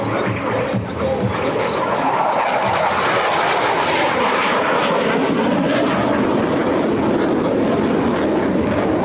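US Navy Blue Angels jets passing in echelon formation at the Wings Over South Texas air show, a loud, continuous roaring engine wash that swells and shifts as the aircraft sweep by.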